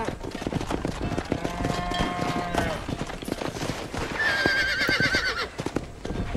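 A horse in the Red Dead Redemption video game whinnies with wavering tonal calls and clip-clops along, hooves tapping steadily under a busy ambient mix with a bright high-pitched whinny near the end.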